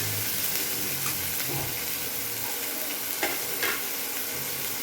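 Steady sizzling and crackling of onion and green chilli tempering frying in a hot pan, with occasional stirring scrapes, close and continuous with no talking.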